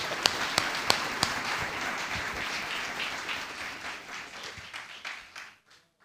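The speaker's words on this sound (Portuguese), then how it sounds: "A ele uma salva de palmas" Church congregation applauding, a dense crowd clapping that starts full with a few sharp claps, then thins and fades out over about six seconds.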